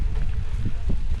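Strong wind gusting across an open farm garden in Pampanga, heard as a dense, continuous low roar with brief surges of buffeting on the microphone and no speech.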